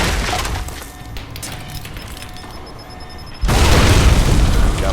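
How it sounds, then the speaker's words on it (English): A grenade blast in the video game Alpha Protocol, a sudden loud booming burst with crashing debris that holds through the final second and a half after quieter game ambience. "Oh, he tossed a grenade."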